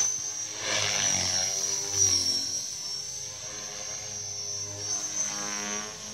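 A 450 DFC radio-controlled helicopter on a test flight, its rotor and motor giving a steady buzzing whine with a high electric tone over a low wash, rising and falling slightly as it hovers at moderate distance.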